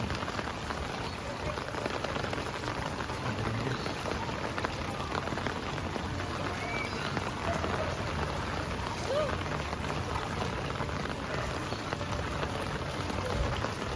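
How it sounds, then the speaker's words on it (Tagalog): Heavy rain from Super Typhoon Carina pours down on Dapitan Street in Sampaloc, a dense, unbroken roar of drops hitting surfaces that fills the whole stretch, with people's voices faintly beneath it. "Lakas, lakas ng ulan."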